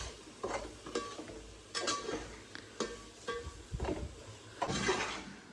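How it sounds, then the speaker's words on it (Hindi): A utensil stirs semolina (sooji) roasting with fennel seeds in a pan, with soft scraping strokes and occasional light clinks against the metal, quiet and close, over a faint sizzle. "अब इसको भूनते रहो जब तक ब्राउन नहीं होता ये"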